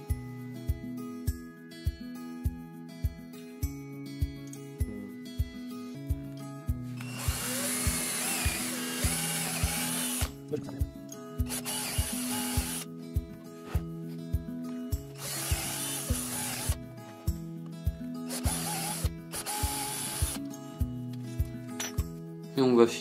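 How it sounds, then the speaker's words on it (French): An electric drill bores holes at marked points in a wooden board for a fishing-rod stand, giving four separate loud whirring bursts over rhythmic background music. "On va ensuite percer un trou à l'aide de la perceuse sur toutes nos marques."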